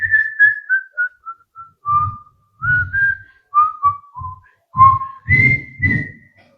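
A preacher whistles a wandering, sliding tune in short phrases, imitating a prowling thief strolling along, clear and close with soft thuds of footsteps or taps under the notes and no talk.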